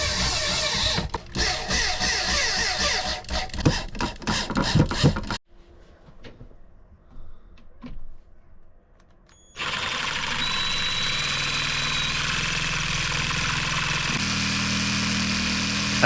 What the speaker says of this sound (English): Now at this point I'm just screwing the back fence in